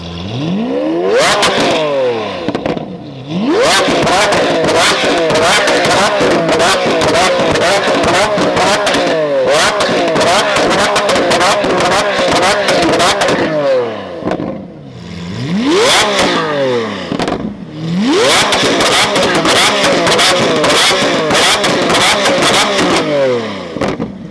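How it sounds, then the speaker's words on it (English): Loud supercar engines, led by a Lamborghini Aventador, rev hard and accelerate away from a London cars-and-coffee meet in repeated bursts, roaring close by with brief dips between passes. "some of the cars are now leaving, but that Aventador is so loud"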